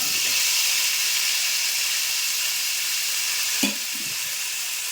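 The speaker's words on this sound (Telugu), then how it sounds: "ఉల్లిపాయలు వేయించుకోవాలి కదండి" Onions fry in hot oil for Andhra-style chana dal khichdi, giving a loud, steady, close sizzle and hiss that runs throughout, with a brief clatter of stirring near the end.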